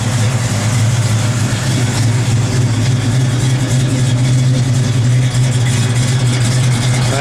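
1970 Ford Torino GT with a shaker hood, its engine running steadily close by with a deep, rumbling low-pitched drone throughout and no talking.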